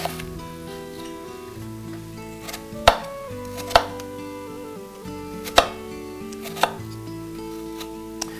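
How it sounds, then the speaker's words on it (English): Apples are cut into small cubes with a paring or chef's knife on a board, giving a handful of sharp, close chops at uneven intervals over a quiet kitchen background. "just cut them up into small cubes like this"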